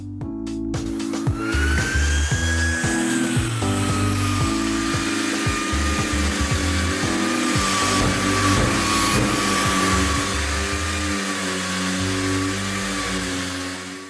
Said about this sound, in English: the vacuum cleaner will only start when you switch on the power tool